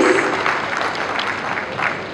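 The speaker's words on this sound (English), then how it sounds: "Please give a huge round of applause." Audience applause at an exhibition industry awards ceremony, a broad wash of clapping from a crowded hall that holds steady throughout.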